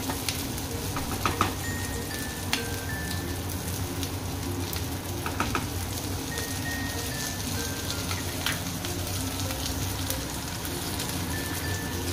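Whole pomfret fries in just a little oil in a home kitchen, a steady soft sizzle with scattered crackles and pops throughout, close and fairly quiet, with no talking.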